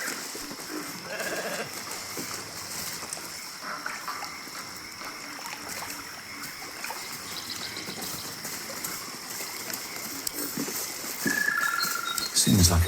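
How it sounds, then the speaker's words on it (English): Sheep bleats sound within the Baldur's Gate III video game over a dense, steady ambient bed with trickling water, with voices talking nearby. "The sheep's voice warbles."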